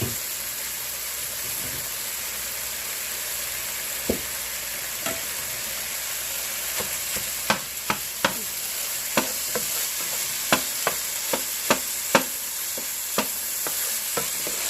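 Taco meat browning in a hot pan, a steady bright sizzle running throughout, punctuated by a dozen or so sharp spatula taps and scrapes that grow more frequent midway, close and fairly loud with no speech.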